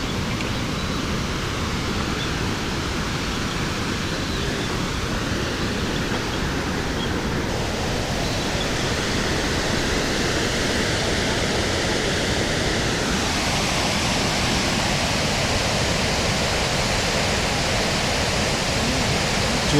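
Chaudière Falls pours in a loud, steady roar of falling water, a dense broadband wash heard up close without pause and with no voices over it.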